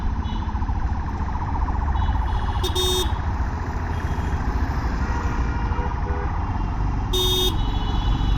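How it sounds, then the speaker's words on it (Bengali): Ambulance siren on a road heard from a Yamaha FZS V4 motorcycle ride, a loud continuous wailing tone over heavy engine and wind rumble, with brief beeps near the start and the end. "অ্যাম্বুলেন্সের তো এই সাউন্ড আমি কোনো শুনি নাই"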